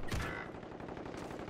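Rapid video-game gunfire inside a hangar, a dense burst of overlapping shots at the start followed by continuing fainter bursts, fairly loud throughout.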